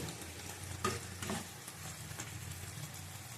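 Fish frying in a pan over low heat, a steady close sizzle with a few brief stirring scrapes, no voices.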